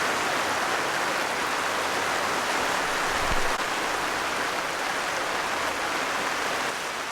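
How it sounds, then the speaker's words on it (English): Steady rain patters on a camping screen shelter, making a dense, even hiss that runs unbroken throughout with no voices. "It is raining, but the rain goes just down on the outside of the screen"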